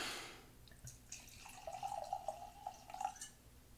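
A drink is poured into a glass at close range, a quiet, trickling liquid stream with small splashes that rises and falls for a couple of seconds in a podcast setting, with no voices.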